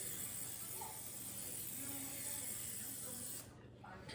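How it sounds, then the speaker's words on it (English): A steady, continuous hiss of a pump sprayer misting olive oil onto tomatoes, fairly close, running for several seconds before cutting off abruptly near the end. "I'm just gonna spray some oil, olive oil, on my tomatoes instead of drizzling."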